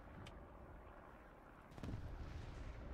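Artillery fire in War Thunder, a tank battle game with a Panther tank, rumbling as a dense, continuous roar of distant blasts that jumps to a louder, heavier burst partway through.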